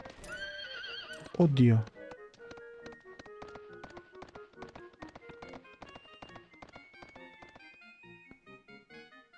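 A horse in the PS2 game Suikoden III gives a loud, brief whinny, then hooves clip-clop in a steady, even rhythm that gradually fades, with a short spoken exclamation near the start.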